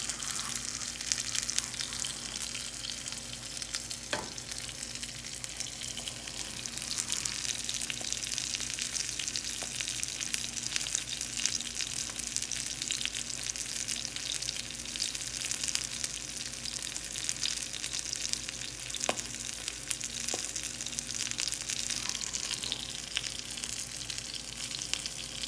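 Salmon frying skin-side down in a pan: a continuous bright sizzle and crackle of hot oil, steady and close, with a couple of faint clinks.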